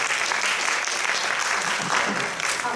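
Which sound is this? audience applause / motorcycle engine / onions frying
audience applause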